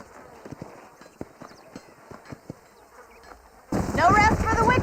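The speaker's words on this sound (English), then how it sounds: "These are fine horses." Horses walk with irregular clip-clop hoofbeats in the western video game Red Dead Redemption, sharp moderate thuds over a quiet background with insect buzzing. Near the end, louder dense noise and a voice take over.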